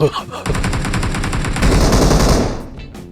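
Rapid automatic gunfire rattles in PUBG Mobile, a loud close burst of many evenly spaced shots running almost continuously before fading out at the end.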